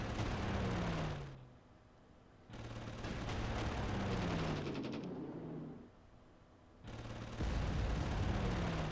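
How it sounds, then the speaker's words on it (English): Bomber attack explosions in the wartime strategy game Panzer Corps, set in France: heavy rumbling blasts and rolling booms in a few long bursts with brief lulls between them, loud and close. "Big hit by the bomber."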